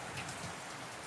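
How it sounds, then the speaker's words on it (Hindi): Steady rain falling during a power cut, a dense, even hiss of drops on surfaces, fairly faint and continuous with no talk. "बारिश हो रही है, बिजली चली गई है"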